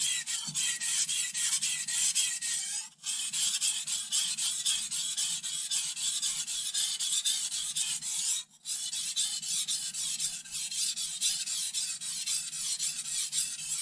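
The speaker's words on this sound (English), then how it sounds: "It's important too to make certain when you're sharpening that you try to use the entire stone from back here to up here." Kitchen knife stroked across a whetstone, a rapid rhythmic gritty scraping that carries on close and steady with two brief pauses between passes, no talking.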